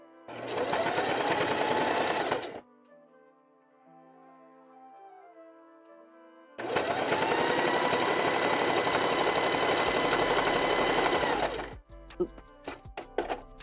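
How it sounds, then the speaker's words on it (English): A sewing machine in a workshop stitches polar fleece for a puppet build in two long, steady motor runs of several seconds each, separated by a quiet stretch with faint music, ending with light clicks and handling. "I'm actually trying to sew on the outside of the line a little bit because this is polar fleece"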